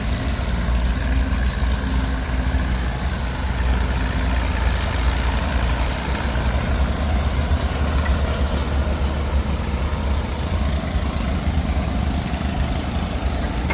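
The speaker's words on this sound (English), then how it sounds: "A 3-cylinder Detroit 2-cycle diesel." A 3-cylinder Detroit two-stroke diesel engine runs steadily at a steam and engine show, a loud, close, low throbbing idle that holds even throughout with no voices over it.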